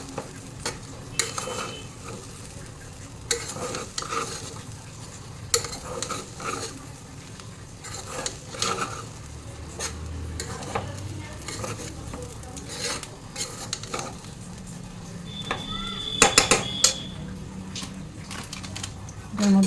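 Ground cumin and coriander powder being stirred together in a pan, with a spoon scraping against the metal in repeated, uneven strokes over a soft background hiss.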